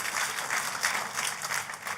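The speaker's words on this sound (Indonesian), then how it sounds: "tepuk tangannya yang paling meriah buat Tuhan kita" An Indonesian church congregation applauds, with dense, steady clapping from many hands that carries moderately loud and even throughout and has no talking over it.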